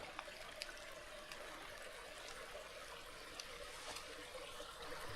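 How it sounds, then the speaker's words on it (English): Creek flowing at a log jam on a trail, a faint steady trickle and babble of water with no voices. "I love the sound of the creek too."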